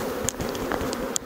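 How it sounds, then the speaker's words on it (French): Honeybees buzz around a small hive in a garden, a soft continuous drone with a few brief, brighter passes of individual bees close by. "Vraiment beaucoup d'abeilles"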